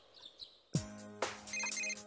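A mobile phone in Persona 4 Golden starts ringing after a quiet moment, its bright electronic ringtone repeating in a quick patterned melody, clear and close with no talking.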